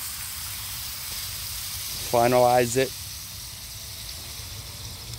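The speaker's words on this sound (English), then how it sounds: "I just want to do another squirt of beer." Beer squirted onto sausages frying in a small pan on a pocket stove gives a soft, steady hiss and sizzle throughout, with a short spoken phrase breaking in near the middle.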